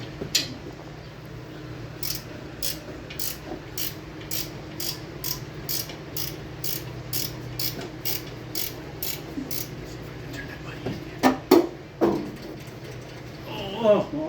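Wrench ratcheting on a VW engine: a steady run of quick, evenly spaced clicks repeating for about ten seconds at close range, then a few louder clanks as the tool slips off.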